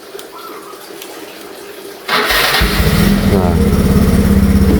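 A 2008 Yamaha Mio Soul lowrider scooter fitted with a Bison exhaust starts up abruptly after a quiet moment, then settles into a loud, close, steady idle with a fast even putter.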